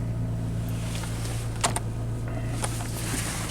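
A Dodge Neon car engine runs at a steady low idle, close and moderately loud, with a few small clicks and taps on top and no talking.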